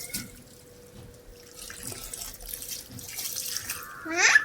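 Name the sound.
water poured on a hibiscus plant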